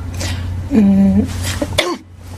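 A woman with a cold clears her throat and coughs a few times at close range during a studio interview, the short rough bursts breaking up an otherwise quiet moment.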